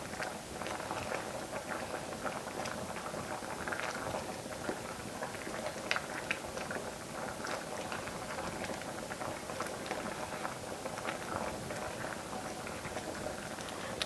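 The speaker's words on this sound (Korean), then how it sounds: "지금 빨리 익자고 끓고 있어요." Samgyetang porridge with crushed garlic bubbling in a pot, a steady quiet burble of popping bubbles and small splattering spits throughout.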